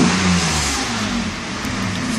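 Mercedes S600 engine in limp mode, straining to rev under a floored throttle: a loud, close, sustained drone that hardly climbs in pitch across the whole stretch.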